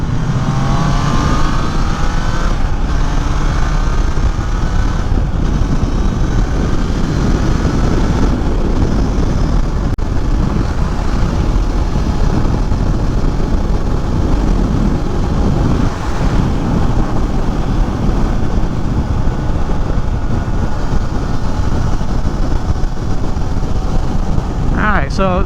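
Wind blast roars steadily while riding a Triumph Trident 660 fitted with a Dart flyscreen at highway speed on an interstate, a loud constant rush with engine drone beneath.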